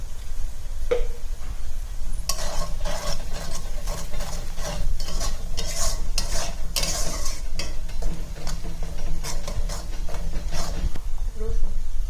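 Ground spices and garlic paste frying in oil in a pan for katla fish curry: a hissing sizzle with bursts of scraping and stirring, and a voice speaking at moments over the cooking.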